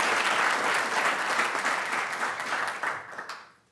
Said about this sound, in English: I would like to a hand of applause for all the organizers